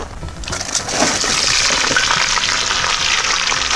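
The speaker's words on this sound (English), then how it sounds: "Sizzling up real nice." Steady, loud sizzling of food frying on a hot disc cooker outdoors, a crackling hiss that swells after the first second and holds without talk.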